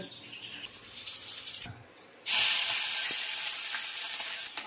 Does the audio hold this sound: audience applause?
no